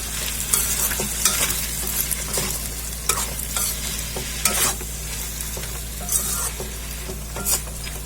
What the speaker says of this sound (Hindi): 2 मिनट के लिए इसे हम भून लेंगे जब तक ये सॉफ्ट ना हो जाए।